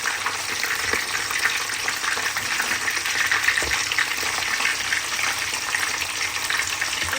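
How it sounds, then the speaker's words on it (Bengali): Dal puri fries in hot oil in a pan, a steady, close crackling sizzle that runs unbroken the whole time with no talking. "এখানে হচ্ছে ডালপুরি ভাজছি"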